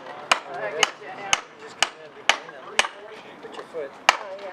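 Hammer striking nails during a house build training session, with sharp regular blows about every half second and voices talking throughout.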